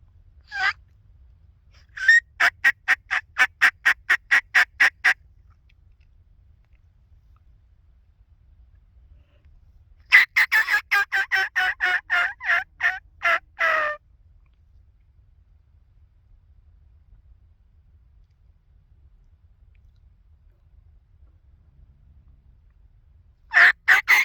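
Diaphragm mouth call imitating a turkey while practising before fall turkey season: loud bursts of rapid, raspy notes, separated by quiet gaps, with a final short burst at the end.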